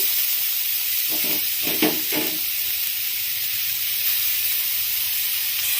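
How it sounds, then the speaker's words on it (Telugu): Grated carrot sizzles and hisses steadily in a pan, frying on medium flame for carrot kheer, with a few brief louder stirring bursts early on and no talk. "ఇప్పుడు ఇదే గిన్నెలో మనం గ్రేట్ చేసి పెట్టుకున్న క్యారెట్ తురుమును వేసుకొని పచ్చివాసన పోయేంత వరకు కూడా ఫ్రై చేసుకోవాలి"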